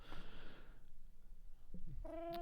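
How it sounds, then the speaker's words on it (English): A Minecraft cat meows in the game, a short tonal call near the end after a brief burst of noise and low clatter. "hear the cat itself"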